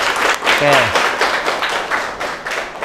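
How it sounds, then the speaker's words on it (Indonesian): Classroom students applauding a classmate for a good answer, a steady run of close, moderately loud claps, with a brief voice near the start. "Beri dulu tepuk tangan ke temannya."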